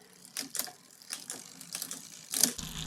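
A RadCity 5 Plus e-bike's 7-speed freewheel clicks and ratchets as the gears shift, giving quiet, crisp mechanical ticks in short irregular bursts that grow a little louder toward the end.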